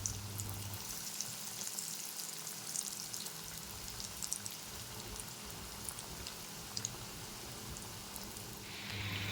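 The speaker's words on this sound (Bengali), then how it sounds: "তেল গরম হয়ে উঠেছে, এবার চপগুলো দিয়ে দেবো।" Vegetable chops, Kolkata street-food style, frying in hot oil, giving a steady dense sizzle and crackle that holds at an even level for the whole stretch, with no talking over it.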